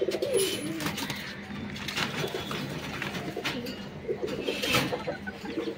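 Several pigeons in a breeding loft cooing softly and repeatedly nearby, with light rustling and flutters in the background.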